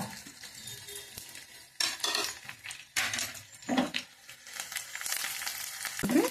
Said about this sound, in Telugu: మినపప్పు, శనగపప్పు కూడా వేసేసుకుందాం